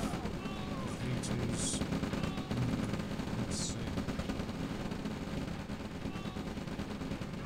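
Rattling gunfire and muffled blasts from V2 rockets in a Red Alert battle keep up as a continuous, crackling din, with a few sharper bursts cutting through and someone talking over the fighting.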